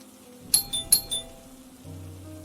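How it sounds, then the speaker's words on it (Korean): A doorbell chimes twice in quick succession, each ring a bright two-tone ding-dong, fairly close and clear over a quiet room. "A의 집으로 가서 초인종을 눌렀다"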